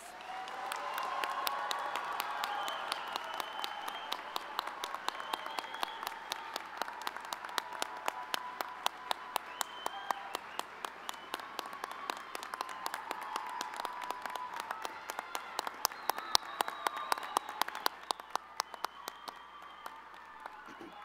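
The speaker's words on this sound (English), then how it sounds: "Let's give these graduates a round of applause." Sustained applause from a large crowd at a college graduation ceremony, dense clapping that holds steady, then thins and fades near the end.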